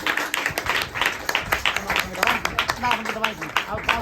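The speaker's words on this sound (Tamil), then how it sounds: "கைதட்டி பார்ப்போம்." Scattered audience clapping at a Christmas church service, with uneven individual claps against a murmur of voices and talking throughout.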